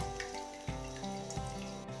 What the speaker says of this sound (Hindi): इसे चकले से ऐसे दबा देंगे ताकि इसका पानी जो है निकल जाए